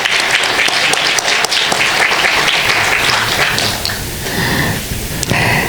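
A large audience at a university innovation forum welcomes a guest, a university vice president, with loud, sustained applause that thins slightly near the end before swelling again.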